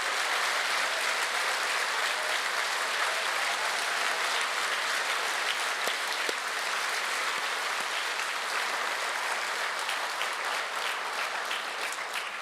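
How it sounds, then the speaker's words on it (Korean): A church congregation at an Easter union worship service applauds steadily and loudly for several seconds, a dense continuous clapping with no voices on top. "여러분 다시 한번 뜨겁게 감사의 박수를 보내주시면"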